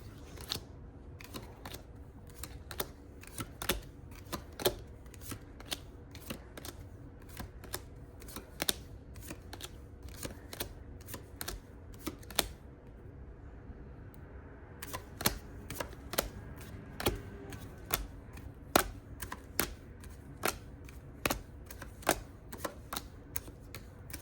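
Tarot cards are pulled one by one from a deck, giving a long run of crisp snaps and flicks at uneven intervals. It is close and fairly quiet, with a short pause partway through and no talk.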